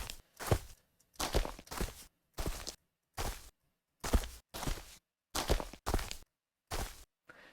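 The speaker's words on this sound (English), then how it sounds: "it starts sort of sounding like some of those footsteps are a little bit heavier than others" Randomized footstep samples with varied pitch, played back in FMOD: about eleven distinct steps in an uneven rhythm, some heavier and louder than others, each separated by silence, close and dry with no talking.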